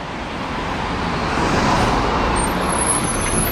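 An Alexander ALX400 double-decker bus approaches through busy Chatham traffic, a steady broadband road roar building slightly louder as it draws near, with faint high squeals near the end.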